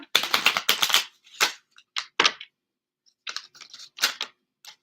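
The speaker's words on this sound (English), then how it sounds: "I'm going to shuffle these up." Tarot cards are shuffled by hand in quick bursts of crisp riffling and flicking, with a dense flurry at first, then scattered shorter shuffles separated by pauses, close and clear.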